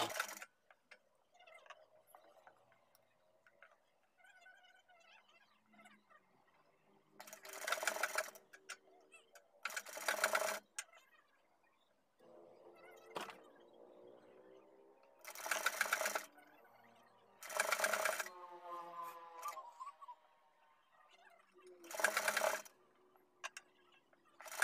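A sewing machine stitches pleats onto a heart-shaped fabric piece made from old palazzo pants, with several short bursts of quick rattling stitching separated by quieter pauses and soft handling noises.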